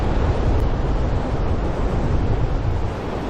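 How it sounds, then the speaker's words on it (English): Strong wind gusting over a microphone beside a river in an Arctic canyon, a loud, continuous broadband roar with no pauses and no voices. "It's a bit windy."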